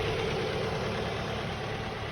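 A 2007 Ford Focus 1.8 petrol engine idles smoothly, a steady even hum held close and alone for about two seconds.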